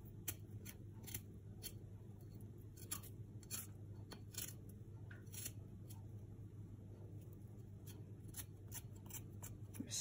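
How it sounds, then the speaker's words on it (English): A spoon scrapes papery skin off fresh ginger root in a series of quiet, crisp scratching strokes, close up against a faint steady background hum. "I'm going to use trick using a spoon just to really easily peel this papery skin away"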